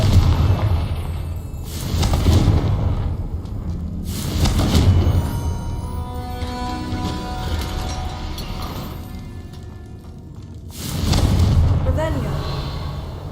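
Confringo fire spell explosions in the Hogwarts Legacy video game, several booming blasts spaced a few seconds apart, each swelling then fading, with a voice speaking in between.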